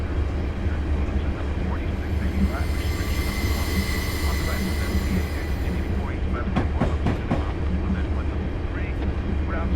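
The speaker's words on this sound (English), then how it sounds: "I'm now going to idle the power and allow the train to coast" A freight train coasts with power idled near Horseshoe Curve in Train Simulator 2015, a loud steady rumble of rolling cars with a high whine. Near the end, a cluster of sharp clicks and clacks sounds from the wheels or couplers.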